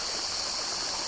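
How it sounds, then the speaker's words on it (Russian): A small mountain stream running through a zoo in Antalya rushes and burbles steadily, a dense, close wash of flowing water with no pauses and no voices. "ручей. Самый настоящий."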